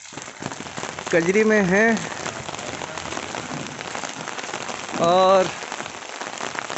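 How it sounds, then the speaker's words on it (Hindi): Steady rain falls on surfaces in a village in Jharkhand, a constant hiss throughout, while someone talks and two long, wavering cow moos cut in. "बारिश हो रही है"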